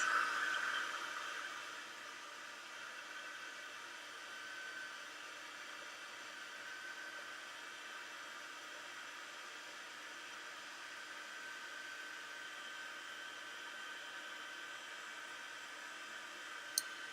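A steady, quiet blowing hiss of a heat tool melting embossing powder over Versamark ink runs throughout, even and unbroken, with no talking over it.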